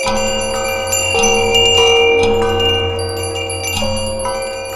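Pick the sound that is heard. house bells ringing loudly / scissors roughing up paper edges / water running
house bells ringing loudly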